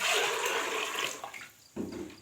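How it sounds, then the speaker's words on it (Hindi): Water pours into a pressure cooker holding soaked chickpeas: a loud, broad splashing rush that tapers off, pauses briefly, then gives a short second gush near the end. "तो अब हम इसमें पानी डालकर 10 मिनट का प्रेशर लगाएंगे"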